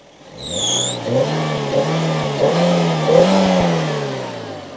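A Suzuki Swift DLX car engine revs repeatedly at close range, rising and falling in several throttle blips over a steady idle, loud and alone with no talk.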